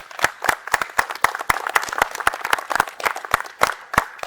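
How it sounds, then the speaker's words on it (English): A modest round of applause at an outdoor scouts ceremony at a campsite, a small group clapping with distinct individual hand claps audible, irregular and fairly close, lasting a few seconds. "We have a round of applause for everyone that's read."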